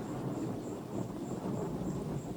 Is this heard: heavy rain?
yes